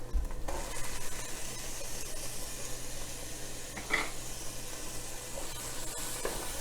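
Ginger garlic paste added to lightly browned onions in a pan for an Odia-style fish curry, a steady close sizzle with the occasional scrape of a stirring spoon, no talk.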